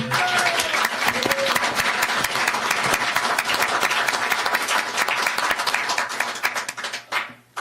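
Dense, loud applause from an audience at an international forum on strengthening Indo-Pacific alliances; many hands clapping continuously before the sound thins out and fades near the end.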